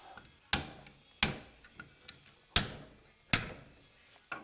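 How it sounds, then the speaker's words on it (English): A hammer knocks on a bolt during a timing chain job on a 2000-2005 Toyota Celica. Four sharp, loud metallic taps come at uneven intervals with small knocks between them, close up and without speech. "we're just gonna tap on this with a hammer"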